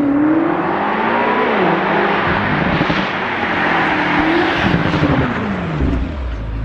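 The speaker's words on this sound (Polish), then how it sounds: "Ja dawno nie słyszałem takiego wydechu." Exhaust of an 825 HP BMW revving loudly and continuously up close, engine note rising and falling through several surges with no talk over it.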